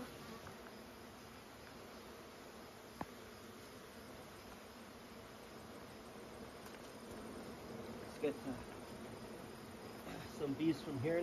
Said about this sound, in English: Let's shake some bees into here.